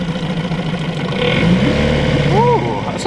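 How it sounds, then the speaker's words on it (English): Mini outboard motor on a jon boat idling smoothly, a low steady engine hum under water noise with someone talking over it. "Ooh, that's a nice little smooth idle."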